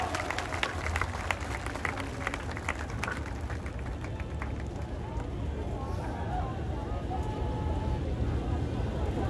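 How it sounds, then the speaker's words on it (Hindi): A crowd applauds at Ramlila Maidan, New Delhi, dense clapping that is strongest at first and gradually thins out over several seconds. "तालियों के साथ।"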